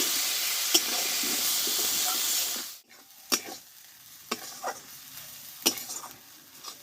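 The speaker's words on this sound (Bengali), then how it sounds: "লবণ দিয়ে মশলাটা একসঙ্গে ভালোভাবে কষে নেব" Masala spices with chopped tomatoes and salt being sautéed in a pan for an aloo cauliflower dish, a loud steady hiss that cuts off, then spoon scrapes and clanks over a quieter sizzle, with no talk.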